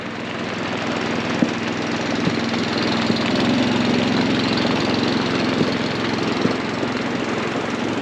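A steady, droning motor boat engine hums continuously at moderate volume on a lagoon in Vang Vieng, with a few faint knocks and clicks scattered through it.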